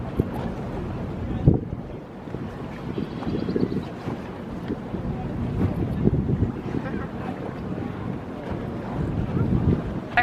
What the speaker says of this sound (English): just going to take the harbor boat tour here